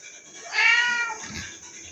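Emilio, a pet cat, lets out a single short, clear meow indoors in a kitchen, close and moderately loud against quiet background.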